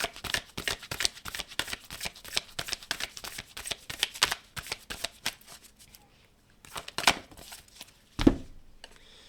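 Tarot cards shuffled by hand in a fast, continuous riffle of dense papery flicks that stops partway, followed by a few separate slaps and taps.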